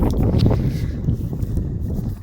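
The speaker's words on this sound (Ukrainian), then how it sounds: "Вітер дує." Steady wind rushes and buffets against the microphone, a continuous low roar with gusty swells and no voices.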